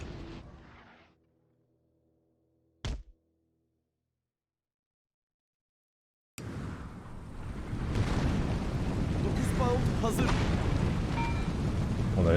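9-pounder artillery cannons firing in a Napoleon: Total War battle, a sharp isolated boom followed after a silence by a dense, sustained rumble of distant cannon shots and battle noise, heavy and continuous.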